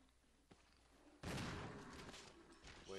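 A gunshot in the Resident Evil Remake video game, a sudden loud blast after a soft tap, its report ringing on and fading away over the next couple of seconds.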